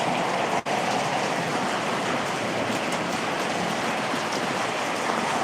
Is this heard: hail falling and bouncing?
yes